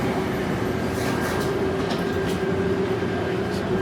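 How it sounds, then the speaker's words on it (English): The underground airport train at Denver rumbles steadily, with a constant low roar, a faint electric hum and soft rail clicks, heard from inside the moving car. "Okay, let's hop on the train."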